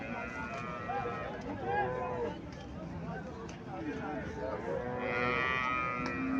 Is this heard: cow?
yes